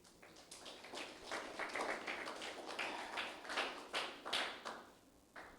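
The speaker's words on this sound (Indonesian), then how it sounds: "Yang saya mau tanya, saudara tepuk tangan buat yang mana nih?" A church congregation at an online service applauds in a gentle wave of rhythmic clapping, fairly faint and distant, swelling slightly and fading near the end.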